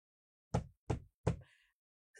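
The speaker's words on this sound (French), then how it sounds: "Elle frappe à la porte et elle demande à Henri d'ouvrir cette porte." Three sharp knocks on a door in steady rhythm, close and fairly loud, followed by a brief faint tone, with no voices.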